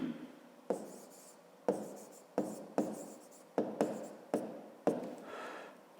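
Pen strokes scratch across notebook paper by hand in a string of about ten short, sharp scrapes, each starting crisply and trailing off, close and quiet with no talking.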